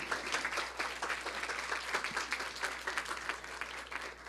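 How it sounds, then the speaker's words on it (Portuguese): An audience at a Portuguese-language lecture gives a speaker a welcoming round of applause, with dense sustained clapping throughout, moderately distant and without speech. "salva de palmas"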